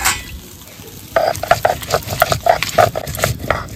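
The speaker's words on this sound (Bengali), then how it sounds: "সয়াবিনটা ভাজার জন্য বসিয়ে দিয়েছি" Soybean chunks fry in a pan and are stirred, making quick rhythmic scraping strokes over a sizzling hiss. The stirring starts after a quiet second and carries on in close, even bursts.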